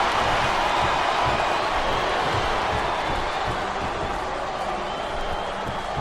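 An arena crowd in WWE SmackDown vs Raw 2008 for Xbox 360 gives a steady, dense wash of cheering and roaring, continuous at moderate loudness throughout.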